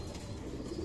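A racing stock pigeon in a loft coos softly, a faint, low, continuous murmur in a quiet space.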